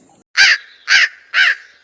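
Three loud, harsh crow caws ring out from a nearby tree at an even pace, each call short and rasping with quiet gaps between them, and no talking.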